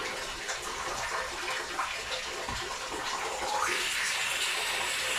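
Water spraying under pressure from a pipe under repair, a steady loud gushing hiss throughout that grows brighter and stronger near the end, with no talk.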